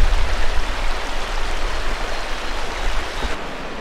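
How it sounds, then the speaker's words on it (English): Stream water flowing around a meander bend, a steady, dense rushing and babbling wash that stays loud and continuous from start to end with no voices. "As the stream makes its way around this curve or meander bend, the energy from the stream goes to the outside of the curve."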